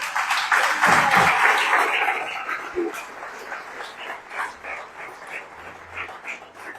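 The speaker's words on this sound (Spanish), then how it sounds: "Un aplauso al Señor" A church congregation claps for the Lord, a dense burst of applause that is strongest at first and then thins into scattered, uneven clapping.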